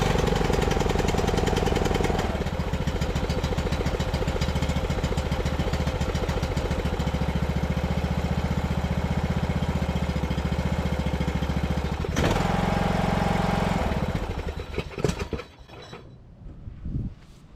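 A small lawn mower engine, bought as junk from a scrapper and repaired, runs loud and steady with a rough rapid chatter, briefly revving harder before sputtering and dying out at idle near the end.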